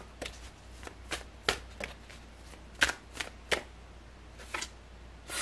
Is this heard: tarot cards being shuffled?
yes